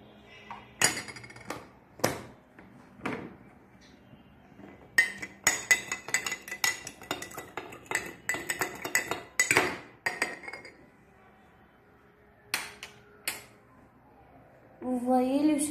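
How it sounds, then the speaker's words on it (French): A metal spoon stirring sugar into a glass of water, with a series of bright clinks against the glass, scattered at first then clustering into quick taps before trailing off, with a voice talking at the end. "Maintenant, on va prendre la cuillère et on va mettre"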